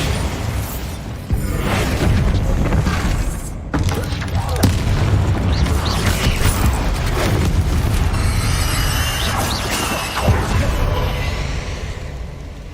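Loud booming blasts from the Bombarda spell in Hogwarts Legacy go off in quick succession, heavy thumps and crackling bursts layered over dense game combat noise with a voice talking over it.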